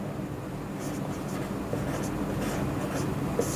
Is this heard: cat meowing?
no